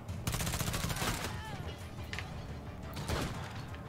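Rapid automatic gunfire in the video game State of Decay 2, dense bursts of close, loud shots that stop and restart, with a player talking underneath.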